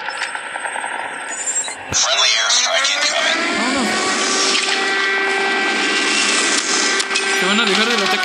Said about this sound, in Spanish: Espérate, ahora el helicóptero.